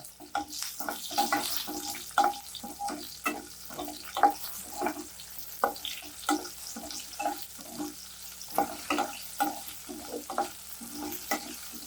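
Onions sauté in oil with whole garlic cloves, a close steady sizzle punctuated by rhythmic spoon scrapes and clacks against the pan as they are stirred repeatedly.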